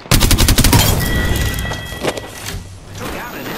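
Rapid gunfire erupts in a shooter video game, a loud close burst of overlapping shots in the first second or so, followed by scattered booms and continued firing that trails off into background game noise.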